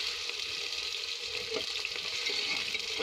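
Onions and chopped green chillies fry in a pan for an aloo matar gajar sabzi, a steady bright sizzle running throughout with faint stirring clicks beneath it.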